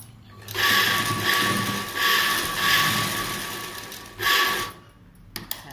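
A sewing machine stitches fabric for dress hangings in bursts: a close, whirring run of about a second and a half, then two more runs, each stopping abruptly, with a few small clicks near the end.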